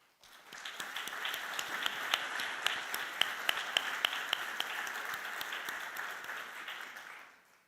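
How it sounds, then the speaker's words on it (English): An audience at a health system quality and innovation awards ceremony applauds the nominees, a full, even round of clapping that swells in quickly, holds steady for several seconds, then tapers off. "Please join me in applauding all the nominees."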